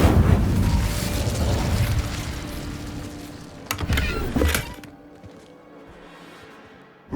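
A fire spell cast in Hogwarts Legacy lands as a loud booming burst that roars and crackles for several seconds, flares again briefly, then dies to a low rumble with a final thump.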